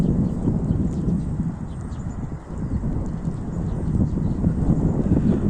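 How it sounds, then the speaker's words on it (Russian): Strong wind gusts through a snowstorm, a loud continuous roar with buffeting rumbles against the microphone, steady for the whole stretch with a brief dip midway. "смотрите, какой там ветер."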